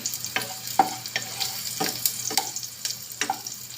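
Onions frying in a hot pan until golden brown for squid adobo, a continuous soft sizzle broken by a regular series of scraping stirs about every half second, close up with no voices.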